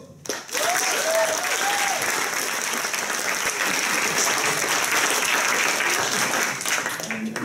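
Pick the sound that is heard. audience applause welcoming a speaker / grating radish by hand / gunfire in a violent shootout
audience applause welcoming a speaker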